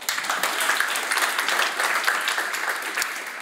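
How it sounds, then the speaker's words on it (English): Audience applause at a Europe Day event in The Hague, brisk and dense clapping from a crowd with individual hand claps standing out, steady and fairly close for the whole stretch. "thank you for your kind applause"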